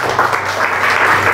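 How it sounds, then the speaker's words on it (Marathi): A church congregation claps loudly and densely for a short burst during a sermon, the applause close and sustained throughout. "या एकदा जोरदार टाळ्या वाजू."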